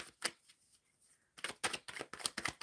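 Tarot cards being shuffled, a brisk riffle and burst of papery flutters, then a pause before a longer run of rapid crisp card riffles, close and fairly loud.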